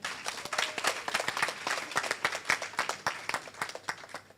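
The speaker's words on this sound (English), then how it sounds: "I think we all need to clap for ourselves." Audience at a Bangladesh-area obstetrics and gynaecology society's annual general meeting clapping for themselves: a fairly sparse crowd of distinct, sharp handclaps with an uneven rhythm, moderately close, lasting a few seconds.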